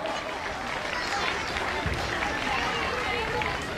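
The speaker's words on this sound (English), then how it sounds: "Can I have a big round of applause for our chief guests, guest of honors, teachers, everyone" Audience applause at a school annual sports day event, honouring the chief guests, guests of honour and teachers: dense, steady clapping mixed with crowd noise and cheering from a large gathering, sustained throughout.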